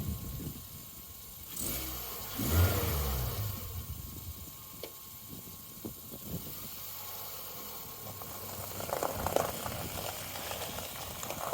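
A salvage R50 Mini Cooper with a damaged strut driving, its engine revving and accelerating at moderate distance, a rising and falling motor hum with some rattles and bumps over the drive.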